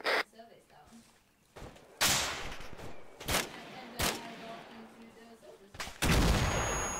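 Gunfire in the military shooter game Arma 3 arrives as several loud, sharp cracks spaced irregularly, some distant and some close, with a voice heard between the shots.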